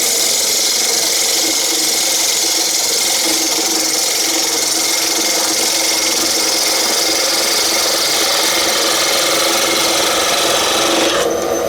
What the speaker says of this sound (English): So parting tool again.